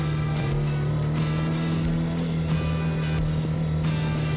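A BMW F 850 GS motorcycle engine drones steadily and loudly throughout, its pitch holding fairly even with brief surges as the throttle is worked.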